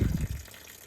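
Water spills out of the door of a 1990 Ford F-150 truck in a brief, close splash that fades quickly into quiet.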